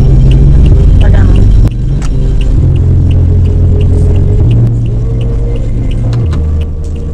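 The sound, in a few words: vehicle engine rumbling at the parking area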